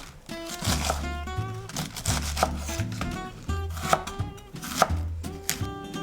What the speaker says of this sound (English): Cabbage is sliced.